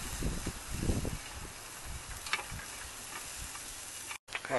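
Peppers frying in a pan with onions and curry powder on a Cadac gas cooker, giving a soft, steady sizzle with light stirring scrapes and a brief cut near the end.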